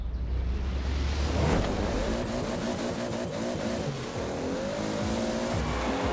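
A Toyota Celica ST-185 races in Forza Horizon 4, its engine revving and shifting through rising gear pitches as tires squeal, loud and continuous with no talk over it.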